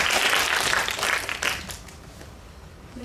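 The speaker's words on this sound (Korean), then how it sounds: "박수 부탁드립니다" Audience applause at a film premiere screening with a post-show Q&A, a dense burst of clapping that is loud at first and then thins and fades over a few seconds.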